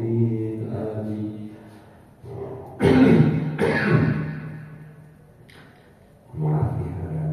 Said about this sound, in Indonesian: agak batuk dikit